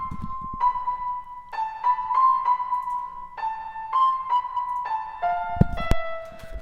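A Siren Head trap remix without vinyl effect: a wavering siren-like lead holds long tones over a sparse beat, with a sharp hit near the end, clear and unobscured.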